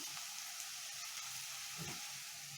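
Chopped vegetables frying in a pan for tomato bath, giving a soft, steady sizzle with faint stirring scrapes, quiet and close, with no voices over it.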